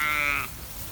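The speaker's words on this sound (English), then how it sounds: "a little collection of lambs and sheep round her here" A sheep or lamb gives one short, clear bleat up close in a field among a small flock of lambs and sheep, then the sound falls away to quiet outdoor background.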